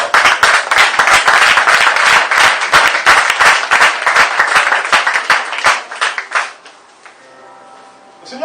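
A church congregation claps and applauds loudly and steadily for about six seconds, then the clapping fades out into quiet room tone.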